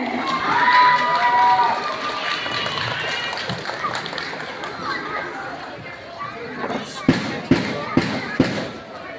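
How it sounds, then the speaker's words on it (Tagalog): A lively crowd at a church or school team event cheers and shouts for Team Gentry, excited voices and children's calls over scattered clapping, fading toward a few sharp loud claps near the end. "let us give them a round of applause!"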